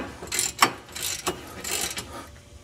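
A ratchet clicks in short bursts while brake caliper bolts are snugged down during a brake and rotor job, with several quick ratcheting strokes close by and no talking.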